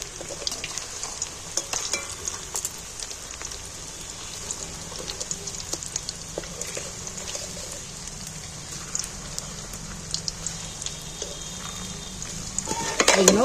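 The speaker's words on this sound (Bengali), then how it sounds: "এগুলো লাল লাল করে আমার ভাজা হয়ে গেছে" Pieces frying in hot oil until reddish, a continuous close hiss and spatter with scattered pops and clinks of turning, growing louder at the end.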